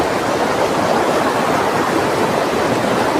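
A river flows strongly, its steady, dense rushing filling the air close by with an unbroken roar and no voices.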